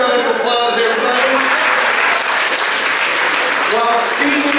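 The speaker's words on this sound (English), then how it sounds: "Give a big round of applause, everybody" A seated group applauding indoors during a swim-themed activity session, loud continuous clapping with voices talking and calling out over it the whole time.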